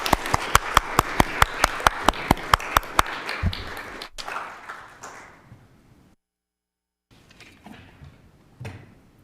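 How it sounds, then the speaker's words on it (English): Audience at a city council work session in Salt Lake City claps in a brisk, even burst of applause that fades out, followed by a pause and some faint shuffling and taps. "Can we still give them a round of applause?"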